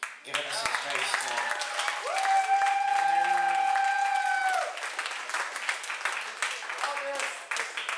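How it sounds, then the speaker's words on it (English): Audience applause at a comedy show, scattered clapping at the start and end around a sustained tonal music passage in the middle, with some voices mixed in. "let's get a round of applause for the elbow room for giving us some space"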